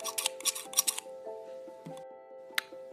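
Scissors being handled among craft supplies for making checkered heart cards: a quick series of close metallic snips and clicks, then softer handling noises and one sharp click, over a faint steady hum.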